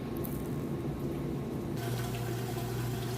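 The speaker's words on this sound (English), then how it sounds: "we moved out of the wash cycle, draining the water. You can hear that there." A Maytag washing machine drains water in a steady gush under a low mechanical hum, close and fairly loud throughout.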